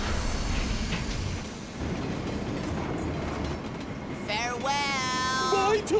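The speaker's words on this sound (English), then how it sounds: "The train has left the station." A cartoon train pulls away from the station, a steady rumble with rolling wheel clatter throughout, and a rising whistle-like tone near the end.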